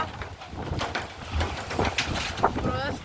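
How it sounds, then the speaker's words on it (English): Strong outdoor wind gusts and buffets the microphone on a trip around Bangalore, a rough, continuous roar under excited talking voices throughout. "This wind is not normal."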